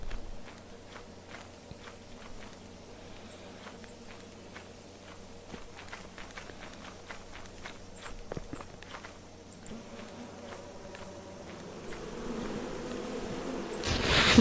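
Bees buzzing around a hive in the video game Lethal Company, a thin continuous drone with scattered footsteps and clicks, swelling into a louder, denser buzz toward the end.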